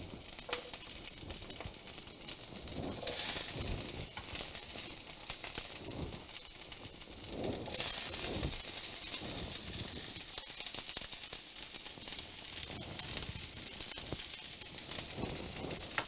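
Brussels sprouts and bell peppers sizzle in a hot pan, a steady broad hiss with a couple of louder bursts of spitting as the vegetables settle, no talking.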